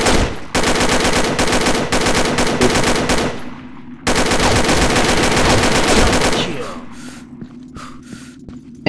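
Rapid video-game gunfire, dense bursts filling most of the clip with a brief break near the middle, then tapering into scattered shots and a voice toward the end.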